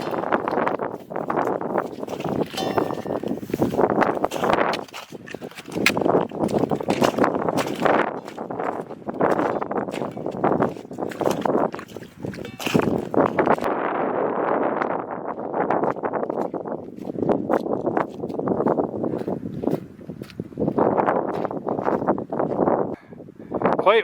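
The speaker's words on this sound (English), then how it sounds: "Quite windy and exposed up here" Wind buffets the microphone on exposed alpine tundra in Appalachia, gusting in loud, uneven surges with brief lulls, while people talk intermittently beneath it.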